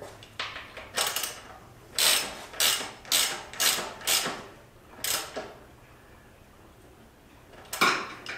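A ratchet snugging up bolts on Drag Specialties ride-adjustable motorcycle shocks, clicking in short, close bursts of rapid ratcheting separated by pauses, in a quiet workshop.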